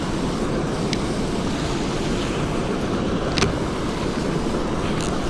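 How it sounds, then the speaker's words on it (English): Water rushes over a spillway waterfall in a steady, dense roar close by, continuous throughout with faint wind buffeting and no voices. "You gotta cast it in the waterfall."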